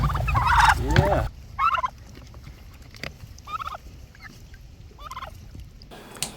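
Pastured turkeys gobble in several short bursts, a loud close flock call at the start followed by repeated fainter gobbles spaced a second or so apart over a quiet outdoor background.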